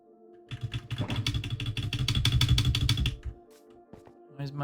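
A computer keyboard clatters rapidly during Minecraft play, a fast run of sharp clicky keystrokes building to a loud burst over a steady background hum, then dropping away to a few faint taps.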